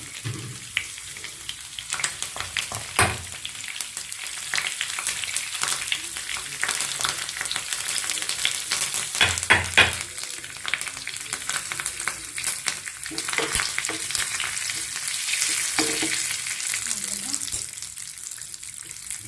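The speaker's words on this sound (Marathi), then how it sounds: "तेल चांगला गरम होऊ द्यायचा. तर ही कढीपत्त्याची पाने घालते मी सुरुवातीला." Curry leaves crackle and sizzle loudly in hot oil, a dense continuous frying hiss with sharper pops and spatters throughout, close up and uninterrupted by talk.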